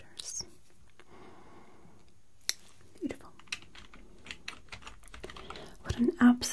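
Fast clicking of computer keyboard keys typed in a quiet ASMR office-interview setting, soft and close, with scattered louder taps toward the end and faint whispering in the background.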